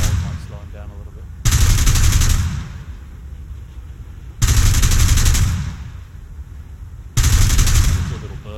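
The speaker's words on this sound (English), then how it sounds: "I get to 600 meters, I'll open fire." Three loud bursts of FW 190 machine gun fire in the War Thunder flight game, each lasting about a second or more, separated by steady engine drone.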